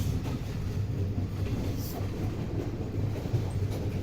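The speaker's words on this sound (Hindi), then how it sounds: "ट्रेन हमारी फैसलाबाद की गली मोहल्लों से गुजर रही है" Karakoram Express passenger train rolling through the streets and neighbourhoods of Faisalabad on a winter run, a steady close rumble with low rattling under broadband noise, continuous throughout.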